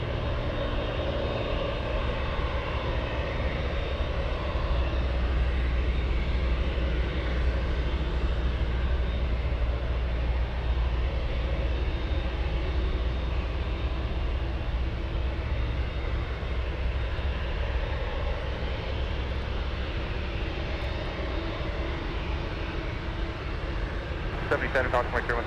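A UPS jet aircraft at Anchorage airport pushing back and taxiing, its engines a steady, continuous roar that holds throughout.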